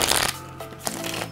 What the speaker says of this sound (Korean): 종이 질감의 카드고요.